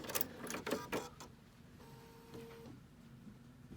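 A Bernina jumbo bobbin sewing machine stitches backwards, giving a few quick mechanical bursts and then a softer whirring hum. It sounds close and fairly quiet.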